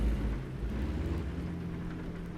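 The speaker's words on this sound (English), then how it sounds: "Oh, we got a thunderstorm." Steady rain hisses over a low rumbling thunderstorm backdrop, a continuous dense wash of sound with no distinct claps and no voices.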